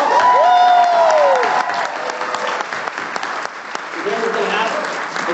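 An audience bursts into loud, sustained applause that gradually thins toward the end, with a voice and some whooping over the clapping.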